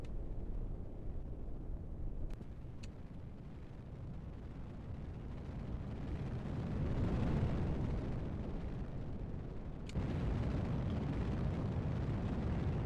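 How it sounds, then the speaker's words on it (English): Rocket engines roaring in Kerbal Space Program, a steady broad rumbling thrust that swells louder midway and continues without pause, with a few faint clicks on top. "So them rocket sounds there"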